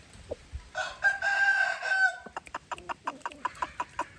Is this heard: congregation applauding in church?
no